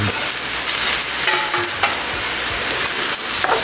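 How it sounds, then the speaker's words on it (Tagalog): Shrimp stir-fried in a hot pan, with steady sizzling and intermittent scraping of a spatula against the pan, close and fairly loud. "ilagay na natin to yung hipon"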